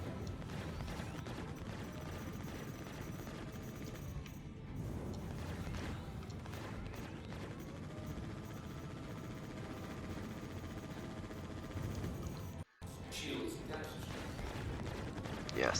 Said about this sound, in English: Yeah, something is shooting at me for sure.